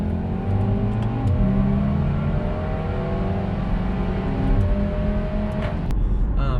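A Volkswagen Golf R accelerates hard up to 60 mph, its engine note climbing steadily through the gears in a loud, continuous surge heard from inside the car, with no talking.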